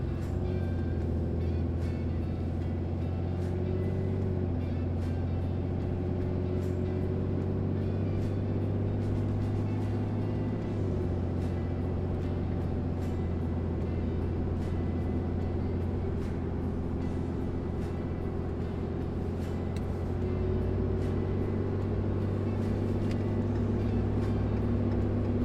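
Ram 2500 pickup truck with an upgraded Revmax valve body accelerating through its gears, a loud, continuous low engine drone heard from inside the cab, with pitch changes around the shift points.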